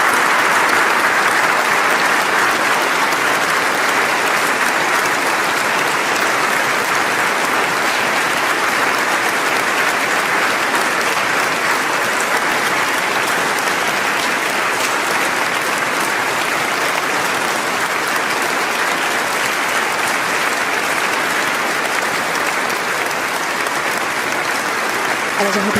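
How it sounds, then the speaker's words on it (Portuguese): Steady, dense applause from an audience fills Oslo City Hall after a Nobel lecture. The loud, continuous clapping runs for the whole stretch without a break. "E os aplausos continuam."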